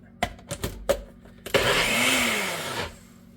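A NutriBullet blender whirring through Dole Whip ingredients, preceded by a few quick knocks and shakes of the cup, then a loud steady motor roar that winds down as it stops.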